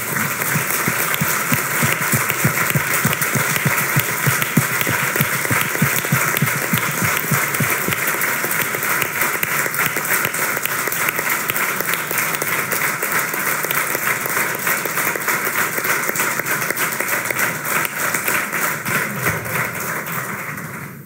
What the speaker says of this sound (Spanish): si me acompañáis en un aplauso por su valentía y su honor